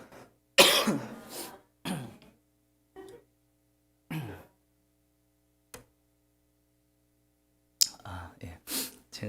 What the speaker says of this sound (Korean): 목이 말라서 그래서 헛기침이 나옵니다.